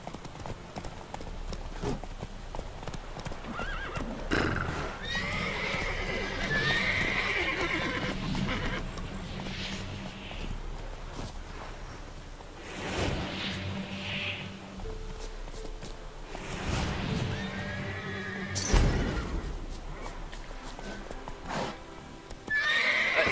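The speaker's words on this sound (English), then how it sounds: "Oh, a new horse." Horse neighs and whinnies in The Witcher 3, with steady clip-clop hoofbeats on the ground, a few loud whinny bursts standing out over continuous game ambience, no talking.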